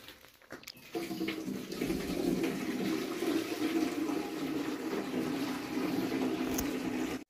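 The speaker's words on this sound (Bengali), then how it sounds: "বাবা মেশিনে করে জল দিচ্ছে প্লাস্টারে" A machine sprays water onto fresh wall plaster during house construction, a steady loud hiss that starts about a second in after a brief quieter lead-in and continues unbroken to the end.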